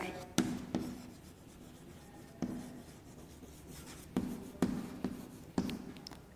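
Chalk or pen writing by a teacher during a Class VII English grammar lesson, heard as soft rubbing strokes with a few sharp taps, close and fairly quiet in a classroom without talk.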